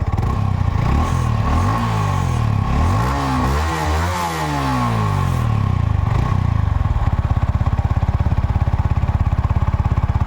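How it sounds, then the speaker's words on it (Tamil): A Yamaha R15 V3 motorcycle revs close up, its exhaust rising and falling through several throttle blips before settling into a steady throbbing idle, loud and without speech. "எக்ஸாஸ்ட்டு சவுண்டு தான் இதில் வந்து முக்கியமான ஒரு ஹைலைட்னே சொல்லலாம்"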